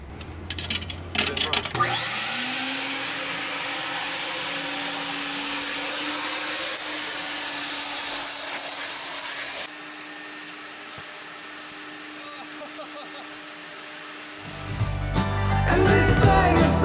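A vacuum cleaner runs steadily, sucking sand out of a van's interior, loud and close with a constant motor whine; it drops in level partway through, then other noise takes over near the end.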